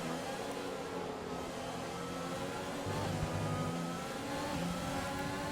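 Formula 1 car engines in the racing video game F1 2020 drone continuously through a first lap, a steady mid-pitched roar with a slight rise midway, no voices over it.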